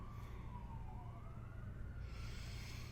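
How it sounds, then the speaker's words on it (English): An emergency vehicle siren sweeps up and down as it passes, a fairly faint wail carried over a steady low traffic rumble, with no one speaking. "We always send love when there's a siren that passes by at Sage Goddess to help guide it on its way safely."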